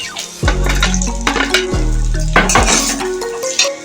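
Lentil badi and vegetables fried together in spices in a pan: loud sizzling with scraping and clanking as a metal spatula stirs and knocks against the pan, in repeated strokes.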